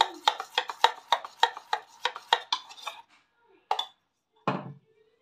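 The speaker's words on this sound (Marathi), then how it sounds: "ते बेसन तर ऑलरेडी आपलं रेडी आहे, तो एकदा व्यवस्थित मिक्स करून घेऊया" Gram flour (besan) batter for aloo vada is mixed in a bowl, with a quick run of about a dozen rhythmic scraping, tapping strokes followed by a pause and two last separate scrapes, close and clear.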